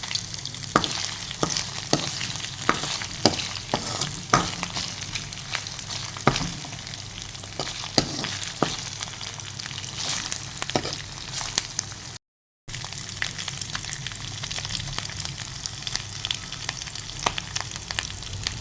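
Chicken liver fries in a pan with a steady, close sizzle, broken by frequent clicks and scrapes of stirring throughout.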